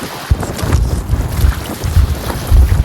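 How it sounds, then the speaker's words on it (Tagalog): Strong seashore wind buffets the microphone in loud low gusts, with a continuous rushing roar near the water and no voices. "Papabilang po natin kasi medyo malakas ang hangin."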